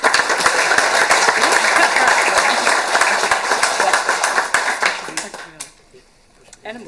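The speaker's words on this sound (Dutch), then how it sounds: "En wellicht een applaus voor Judith" Applause at a municipal council meeting in Ommen fills the room with loud, dense clapping from the chamber that carries on steadily and then thins and fades out quickly near the end.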